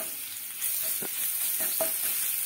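Crushed garlic sizzles in hot oil with cumin seeds for a dhaba-style dal tadka, a continuous close frying hiss with a few light stirring clinks in the pan.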